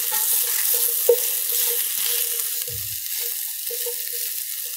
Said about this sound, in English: So we can start stirring this up with the squash.